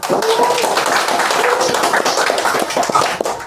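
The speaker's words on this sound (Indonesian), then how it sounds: "Tepuk tangan dulu buat Putra." Vocational school students clap their hands to welcome a guest at a student talk show, giving a close, lively round of clapping with voices mixed in.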